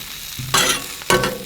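Sausages on a Blackstone griddle give two short, loud bursts of sizzling, each flaring up sharply and then easing, with no talking.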